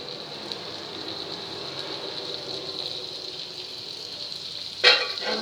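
Vegetables sauté in a pan for masala oats with a soft, even sizzle like light rain, faint and steady, then a sudden louder burst of crackling toward the end.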